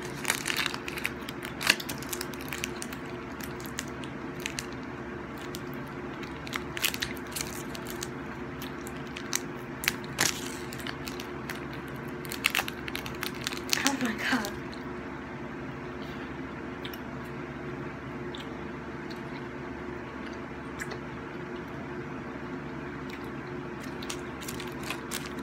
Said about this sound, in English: Oh my god, but it seems to take forever to chew.